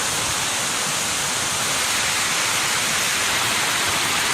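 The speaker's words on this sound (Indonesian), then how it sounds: "air terjun yang satunya ini berasal dari Weh Metan Fit" Steady, dense rush of falling water from a waterfall feeding a natural bathing pool at Hollat, loud and unbroken throughout with no voices.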